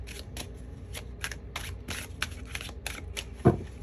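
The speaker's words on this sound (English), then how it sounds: "So let's go ahead and pull some cards." Tarot of the Divine cards being shuffled by hand, a rapid series of about a dozen crisp riffling bursts close up, ending with a single soft thump as the deck is set down or a card pulled.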